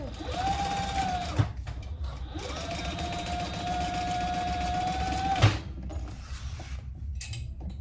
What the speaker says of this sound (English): we're going to sew both of those on right sides together at the seam allowance in the pattern